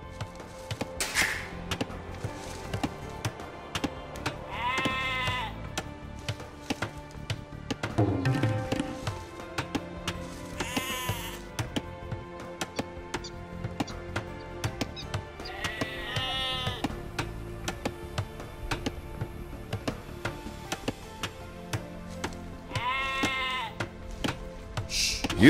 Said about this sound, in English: You've found some sheep.